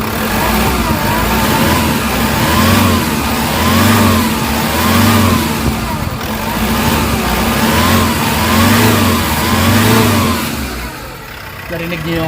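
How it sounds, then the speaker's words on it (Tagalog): A Hyundai H100 diesel engine, being flushed with diesel fuel to remove oil sludge, revs hard again and again in a steady rising-and-falling rhythm, loud and close to the mic throughout. "Pakinggan nyo mabuti yung galit ng makina."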